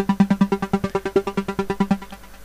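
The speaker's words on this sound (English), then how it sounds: "the note will be chopped up in little portions and played in sequence" LMMS software synth arpeggio: a single note chopped into rapid sequenced portions, about sixteen evenly spaced plucky pulses in a steady sixteenth-note rhythm, clear and alone before a brief fading tail.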